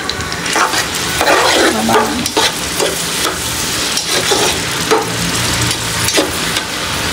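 Chopped onions fry in oil in a large pot for a big batch of biryani, a close, loud sizzle broken by repeated scraping stirs, with no talking.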